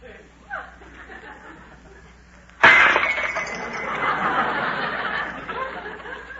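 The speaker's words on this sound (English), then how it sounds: "Suddenly the tray slipped from her hands and went crashing to the floor." A tray loaded with dishes crashes to the floor in a radio-drama sound effect, a sudden loud smash of breaking crockery followed by a long, noisy clatter and rattle, after a quiet stretch of faint background sound.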